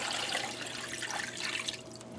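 Cold water pours from a tap into a pot holding chicken, a soft splashing, bubbling stream that runs steadily at low volume, no one talking.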